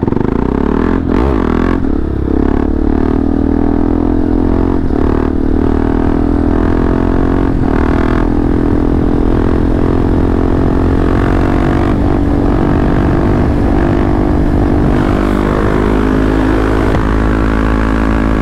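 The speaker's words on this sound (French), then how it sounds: "J'ai fait un wheeling, il y a tout qui s'est allumé." A Yamaha MT-07 motorcycle roars at full throttle through a wheelie, its loud, close engine note holding steady and strained while bursts of wind rush and clatter cut across it, with nobody speaking.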